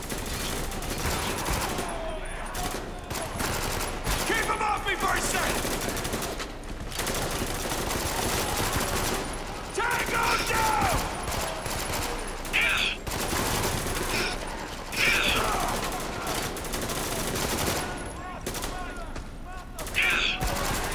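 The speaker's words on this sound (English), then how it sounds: "Probably the worst gun to start shooting." Rapid gunfire from a weapon in the video game Spec Ops: The Line, in dense repeated bursts with brief pauses, loud and close, with a voice talking over parts of it.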